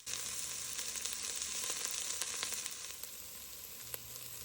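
Yellow onion and minced garlic sizzle over medium heat in a pot for lamb curry, a steady bright hiss with occasional stirring clicks, close and alone without talk.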